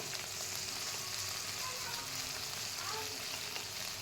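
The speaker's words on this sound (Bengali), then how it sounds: "ভিন্ডিগুলোকে সব আমি তেলের মধ্যে দিয়ে দিলাম।" Oil sizzles and crackles steadily as okra fries in a pan, a continuous close hiss with occasional stirring.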